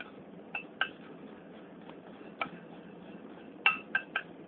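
Whole jeera seeds tossed in a dry pan give a few sharp metallic clinks and light rattles, spaced irregularly over a quiet background hiss.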